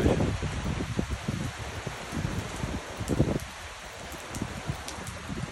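Hard rain falls outdoors near a pond, a close, dense pattering with gusty rustling and uneven bursts of heavier drops.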